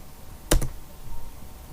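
A few sharp keystrokes on a computer keyboard as a command is entered while flashing a Realme GT Master phone, a quick double tap then quiet room tone.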